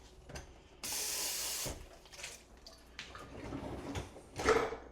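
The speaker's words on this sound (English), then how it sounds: "So we will hand wash those." Running tap water while dishes are washed by hand at a kitchen sink, a steady hissing stream for about a second, then softer splashes, clinks and drips that rise and fall.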